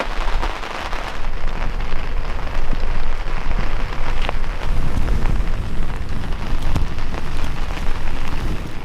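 Steady heavy rain patters on a surface, a constant dense hiss with occasional sharper drops, close and loud throughout.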